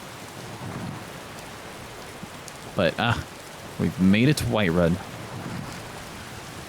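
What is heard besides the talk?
rain in Skyrim video game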